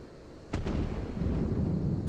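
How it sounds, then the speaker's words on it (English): Cannon fire from an imperial battle scene: a sudden heavy boom hits, a second report follows close behind, and a long rumbling roll lingers before another sharp crack at the end. "Cannon fire! Where did it come from?"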